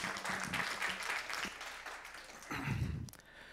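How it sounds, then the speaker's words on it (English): Audience applause for a speaker at the KluCon conference: a steady wash of many hands clapping at moderate level, with a slight swell near the end before it fades. "Let's give a big, warm KluCon round of applause to Alberto."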